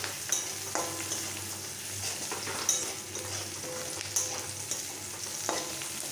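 Black cumin and dried red chillies fry in oil in a pan, a soft steady sizzle with occasional clicks and scrapes of stirring, fairly faint and close throughout with no talking.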